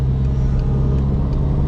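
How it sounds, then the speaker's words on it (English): A car's engine drones steadily at speed on the Nürburgring Nordschleife, a loud, constant low roar heard from inside as traffic passes, with no clearly separate passing cars. "a very good example of faster traffic wanting to overtake us"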